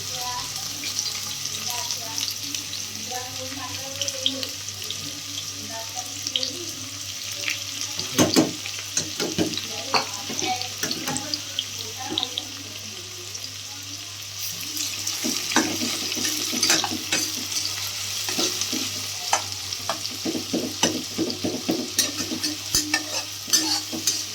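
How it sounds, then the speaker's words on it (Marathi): Onion frying in hot oil while being stirred toward golden brown for Maharashtrian prawn rice, a continuous sizzle broken by repeated utensil scrapes and clinks, with some talking over it. "कांद्याला जरा गोल्डन ब्राउनिश होईपर्यंत आपण त्याला परतवून घेऊ"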